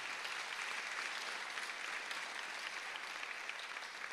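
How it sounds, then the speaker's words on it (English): At a hospice anniversary celebration evening, a room full of people applauds in a dense, even, steady wash of clapping that carries through the whole stretch with no voices on top. "Round of applause again for John Gillespie"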